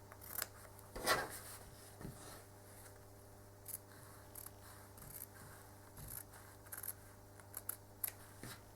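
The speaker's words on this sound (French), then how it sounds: "vous reprenez vos ciseaux et vous essayez de toujours garder la pointe du ciseau vers le haut" Scissors cut quilt fabric in short snips: faint, crisp clicking strokes at an irregular, unhurried pace over a steady low hum, with no talking.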